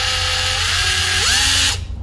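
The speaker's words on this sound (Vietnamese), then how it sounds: "Đây là khoan búa ha, đây là khoan thường. Đó, khoan búa đẩy lên." A used Japanese Makita cordless hammer drill runs steadily at high speed with a loud broadband whine, its pitch shifting slightly as the trigger changes, then cuts off abruptly near the end.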